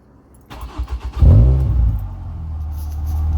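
A Ford Fiesta ST150 Mk6 fitted with a Sportex exhaust cold-starts: a few quick starter-cranking pulses, then the engine catches with a loud, deep burst and settles into a steady, rumbling idle close by.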